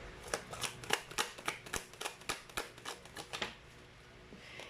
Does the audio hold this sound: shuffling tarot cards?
yes